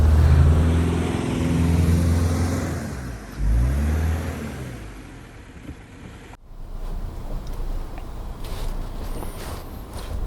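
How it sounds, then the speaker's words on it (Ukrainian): A Subaru Crosstrek engine drones and surges as it strains forward through sand, loud and close, then the sound cuts to a quieter rumbling interior. "В ньому машина значно впевненіше дряпається ось в цих пісках."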